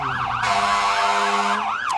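Fire truck sirens from the Montrose Township Fire Department wail loudly and continuously during a Blueberry Festival parade, overlapping rising-and-falling tones close by with a steady horn-like drone.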